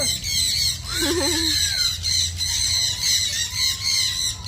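Birds squawk loudly and repeatedly at a wildlife park, harsh close calls over a dense, continuous chorus of shrill bird noise, with no talking.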